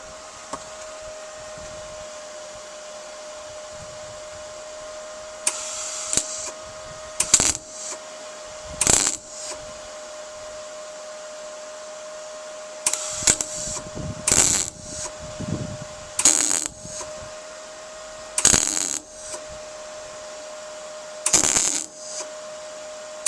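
A welder tack-welds a panel on a VW T25 van, a series of short sharp crackling bursts in irregular spacing over a steady faint electrical hum.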